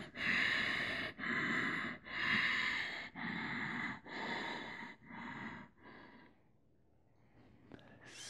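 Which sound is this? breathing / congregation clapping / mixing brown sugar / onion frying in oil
breathing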